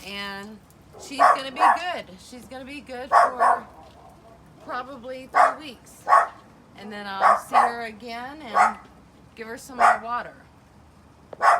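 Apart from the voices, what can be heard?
dog barking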